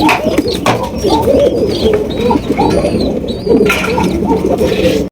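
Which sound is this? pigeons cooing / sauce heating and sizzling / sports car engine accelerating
pigeons cooing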